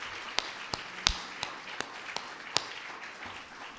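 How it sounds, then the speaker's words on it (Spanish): A church congregation gives scattered, sparse hand claps: about eight sharp, isolated slaps spaced irregularly over a few seconds, fairly quiet and with no talk over them. "Entonces, un aplauso para Riley también."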